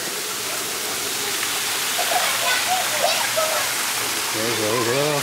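Water rushes steadily at a resort lazy river, a broad continuous wash filling the scene while a voice talks over it toward the end.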